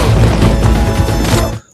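Loud, dense burst of gunfire and crashing impacts from the action film Nobody, sustained at full level for about a second and a half before cutting off abruptly, with no talk.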